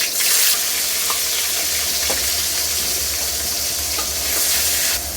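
Onions hitting hot oil already seasoned with cumin seeds, cinnamon, cardamom, bay leaf and dried chilli in a pan, giving a steady close sizzle with faint stirring, alone without talk.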